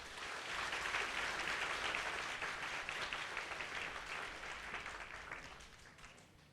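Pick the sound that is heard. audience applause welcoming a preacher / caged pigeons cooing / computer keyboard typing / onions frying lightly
audience applause welcoming a preacher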